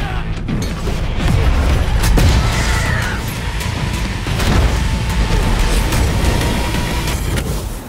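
An explosion destroys a bridge in an action film scene, a loud, sustained rumbling blast with crashing debris and heavy low-end booms that persist throughout.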